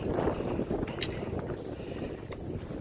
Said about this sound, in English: So windy up here.